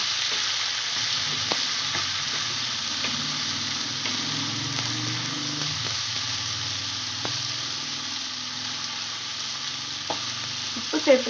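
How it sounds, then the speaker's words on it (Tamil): Onions and tomatoes are sautéed for chana masala. A continuous, fairly loud sizzle holds steady throughout, with a few faint stirring clicks and a brief louder scrape at the end. No one talks. "வெங்காயம் நல்லா வதங்கட்டும்"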